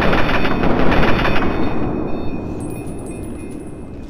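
Machine gun or assault rifle fire in Fallout 3 comes as a loud, rapid, continuous burst of shots that trails off into a fading rumble, up close with no talking.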